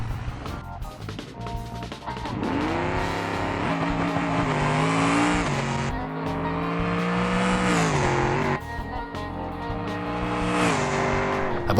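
A drag car in the video game BeamNG roars down the strip under full acceleration, its loud engine note climbing in pitch, dropping at each gear change, then rising again through several gears.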